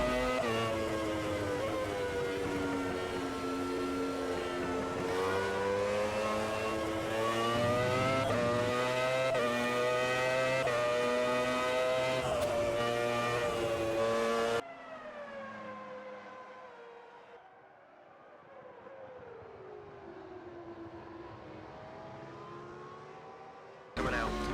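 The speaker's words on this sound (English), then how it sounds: "the 2 McLarens of David Coulthard and Mika Hakkinen are battling" Several 1996 Formula 1 race cars scream past in the video game Automobilista 2, their high engine notes rising and falling through gear changes, then fading into a quieter, more distant drone before a sudden loud burst at the end.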